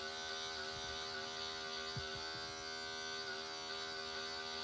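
Electric hair clippers with a number 1 guard buzz steadily during a self-done fade haircut, a close, even tonal hum with faint brushing scrapes as they move through hair.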